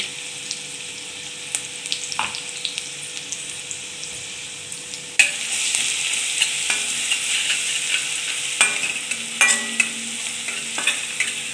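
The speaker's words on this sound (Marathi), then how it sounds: "आता जे आपण लसूण आणि मिरची बारीक करून घेतली होती ती घालायची आहे आणि दोन मिनटासाठी छान अशी तेलामध्ये परतून घ्यायची आहे" Finely chopped garlic and green chilies fry in hot oil, giving a close, steady sizzle broken by stirring scrapes and clicks that grow louder and busier partway through, with no talking.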